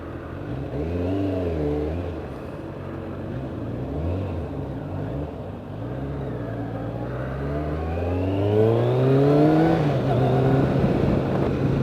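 A Kawasaki ZZR 1100 motorcycle engine revs repeatedly, rising and falling in several throttle blips before climbing into a longer, louder sustained rev toward the end, heard up close with no talk.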